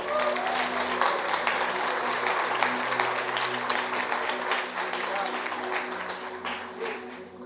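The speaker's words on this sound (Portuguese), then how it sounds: "Aplauda o Senhor." A church congregation claps together during a worship service, sustained applause over soft background music with low held tones.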